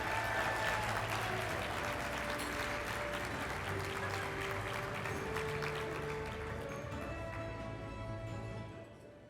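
A large audience at a university award ceremony applauds winners with loud, continuous clapping from many hands, which stays full for most of the stretch before thinning and fading at the very end.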